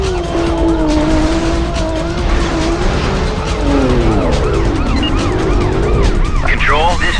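Police sirens wail and sweep in rising and falling tones over a steady roar of racing car engines during a high-speed chase in the video game Need for Speed High Stakes, loud and continuous throughout.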